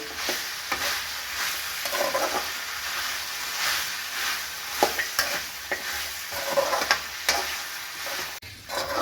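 Beef fry being stirred and mixed in a pan, with steady sizzling and frying hiss throughout and repeated scraping, stirring knocks of the spoon close by.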